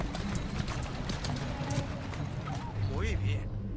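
A horse's hooves clip-clop steadily in the video game Assassin's Creed Syndicate, a brisk continuous trot heard close under someone talking, with a brief whinny-like sound near the end.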